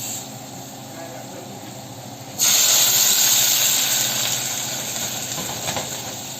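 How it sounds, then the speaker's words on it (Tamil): Jaggery melting in a pan makes a moderate hiss that rises abruptly a couple of seconds in and stays loud, slowly easing over the following seconds. "இப்போது ஒரு பேனில் இந்த வெல்லத்தை போட்டுக்குவோம். வெல்லத்தை போட்டு நல்லா உருக்கிக்குவோம்."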